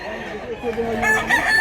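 A seven-year-old rooster at a market in Mantalungon, Cebu gives a short, loud, close crow with clucking, lasting under two seconds.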